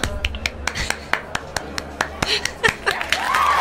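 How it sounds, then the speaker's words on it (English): A series of sharp hand claps, struck hard at an uneven rhythm, close and fairly loud, with light talking and faint laughter in the background. "clapping really hard is fun"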